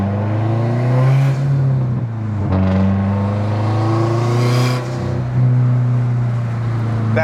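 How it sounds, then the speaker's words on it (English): A car fitted with an external wastegate revving hard on the freeway, a loud close engine drone that rises and falls through several gear pulls, with short dips between them. "That external wastegate sounds so good!"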